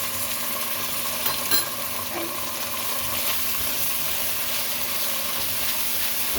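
Chili paste sizzles in hot oil in a pan with frying tofu and meat, a steady close hiss with light crackle and a brief stir or clatter near the middle.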